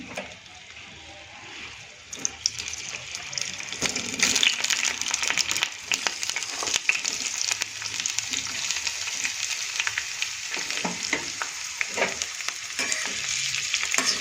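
Roughly chopped onions fry in hot oil for a rajma masala while a spoon stirs them, a steady close sizzle with scraping strokes swelling after the first couple of seconds and continuing throughout.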